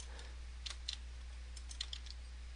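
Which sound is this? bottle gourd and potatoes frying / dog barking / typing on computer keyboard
typing on computer keyboard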